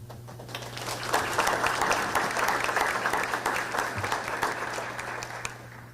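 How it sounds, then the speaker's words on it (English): Sustained applause from the audience at a Michigan State University Board of Trustees meeting, steady clapping filling the space for several seconds with no voices over it. "I'd like a huge round of applause for her"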